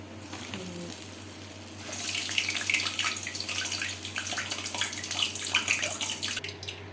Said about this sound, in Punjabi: ਇੱਧਰ ਇੱਕ ਬਾਉਲ ਦੇ ਵਿੱਚ ਆਪਾਂ ਚਿਲਡ ਪਾਣੀ ਪਾ ਲੈਣਾ ਹੈ ਜੀ